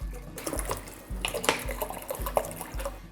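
Bottled water is poured into a pot for boiling pork, giving a few gurgling, splashing pours with short pauses and a steady low bubbling under them.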